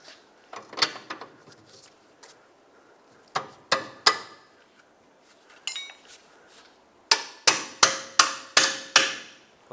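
Steel bolt driven through a control arm and knuckle on a 2007–2010 Chrysler Sebring rear suspension: sharp metallic clinks and knocks, first scattered, then a rapid run of six ringing taps near the end.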